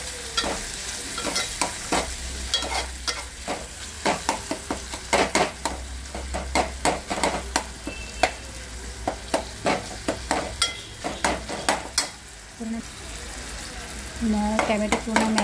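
Tomatoes and red masala fry in a pan for a surmai rassa, sizzling continuously as a spoon stirs and scrapes in quick, uneven strokes, close and loud.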